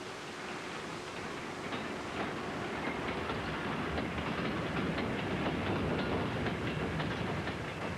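A train rumbles steadily along the track, a broad continuous roar with faint rhythmic clatter, heard at a moderate distance.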